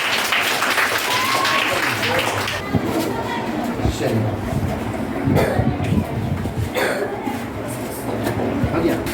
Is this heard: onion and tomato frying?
no